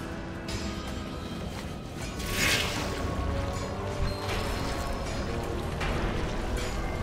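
Machinery whirs and clanks into motion as an acid bile barrel is switched on in World of Warcraft, a steady dense mechanical rumble with a sharper crash-like burst early on and continuous grinding texture throughout.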